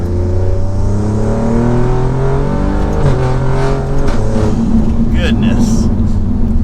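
A tuned 600 HP Alfa Romeo Giulia Quadrifoglio pulls hard with a loud, sustained engine roar heard from inside the car. The pitch climbs and then steps at gear changes, and a voice talks over it.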